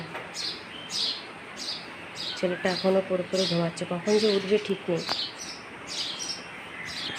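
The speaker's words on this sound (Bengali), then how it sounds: "এদের চড়াই পাখিগুলো এত কিচিরমিচি করে এত কিচিরমিচি করে" House sparrows nesting with chicks chirp in a home in sharp, repeated bursts at a steady rhythm, close by, while someone talks over the middle stretch.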